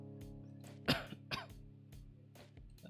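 A person with a lingering cough lets out a couple of short coughs and throat clearings, close and fairly quiet, over a steady low hum.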